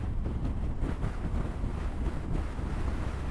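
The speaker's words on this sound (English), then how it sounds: "I'll slow down a bit because the side wind." Strong side wind buffets the microphone while riding a big Harley electric motorcycle on the road into Joshua Tree National Park, a steady loud low rumble and roar with gusty surges throughout, no talking.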